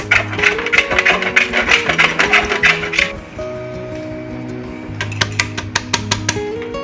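Dairy Milk chocolate rasped against a large grater in a home kitchen, a quick run of rhythmic scraping strokes, a pause, then a second shorter burst, all over soft background music.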